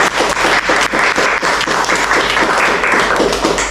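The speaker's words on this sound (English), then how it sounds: "Round of applause for" Loud, close applause from a business-event audience after a talk on exit strategies, many hands clapping in a dense, steady burst throughout.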